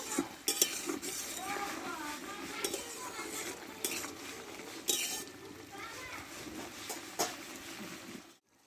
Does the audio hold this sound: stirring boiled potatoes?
yes